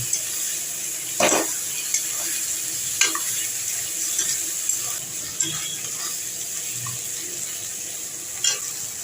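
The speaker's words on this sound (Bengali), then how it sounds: "এবার এগুলোকে একটু একসঙ্গে সমস্ত মশলা একটু ভাজা ভাজা করে নেব।" Spices and chopped tomato fry in a hot pan for a prawn and cabbage curry, giving a steady close sizzle throughout with a few sharp scraping knocks from stirring, and no talk.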